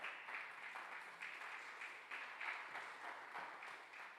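A congregation at a Sunday Tzeltal-language communion church service claps in praise, a faint, distant wash of applause that swells and eases in waves.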